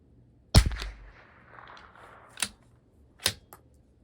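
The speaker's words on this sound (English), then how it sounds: "Last shot." Bergara B14R rifle shot at a 200-yard steel target, one sharp loud crack with a short tail, followed by two fainter sharp clicks or distant impacts.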